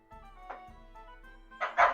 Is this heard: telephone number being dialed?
no